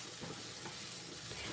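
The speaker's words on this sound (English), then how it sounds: "Just frying our onion." Onions frying in a pan, giving a steady close sizzle with faint stirring scrapes throughout and no talk.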